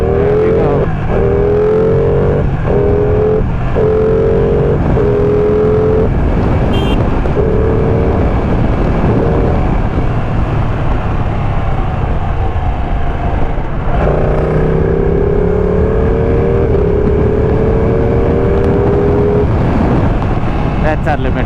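A Kawasaki Ninja 1000 motorcycle revs and pulls hard through the gears on a highway, loud close engine drone rising in pitch with shifts, wind rush throughout.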